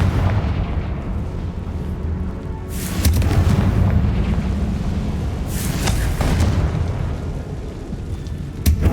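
A Confringo fire spell bursts in Hogwarts Legacy, played on PC, with deep booming blasts and rumbling explosion roars that swell twice amid game ambience, loud and close.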